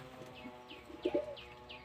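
Soft, repeated cooing of pigeons in a loft, low and murmuring, with faint chirpy calls drifting over it at a gentle, steady rhythm.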